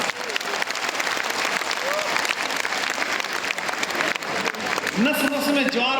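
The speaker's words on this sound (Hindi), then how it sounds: "आपकी तालियां उठनी चाहिए।" Dense, sustained applause from a large audience at a Hindi kavi sammelan poetry recital, loud and continuous, with a voice starting to speak over it near the end.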